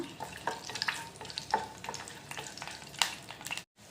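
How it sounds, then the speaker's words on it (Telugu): Urad dal and crushed garlic frying in a little oil, with a faint continuous sizzle broken by occasional light stirring clicks and scrapes, close and quiet, ending in a brief silence. "కొద్దిగా ఆయిల్ వేసుకున్నాక హాఫ్ టీ స్పూన్ మినప్పప్పు ఒక మూడు వెల్లుల్లి రబ్బలు కచ్చబచ్చగా దంచి వేసానండి కొద్దిగా ఫ్రై చేసుకుందాం"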